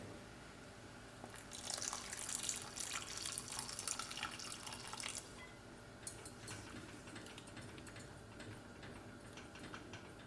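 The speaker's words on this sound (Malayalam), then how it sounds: "ഇനി നമുക്കിതിലേക്ക് ആവശ്യത്തിനുള്ള വെള്ളം ഒഴിച്ചു കൊടുക്കാം." Water is poured into a jackfruit and rice flour mixture, a faint trickling splash rising for a few seconds then fading into quiet drips and light clinks, no speech.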